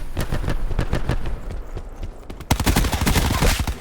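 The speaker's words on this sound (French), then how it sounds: "Je lance une grenade flash." Flash grenade thrown in Call of Duty: Black Ops 4, amid dense bursts of rapid gunfire and a sharper, louder burst of explosive cracks in the second half.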